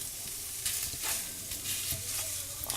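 Sausage browns in a pan for gravy, a close steady sizzle of rendering fat broken by scraping stirs and light spatula knocks, with no talking.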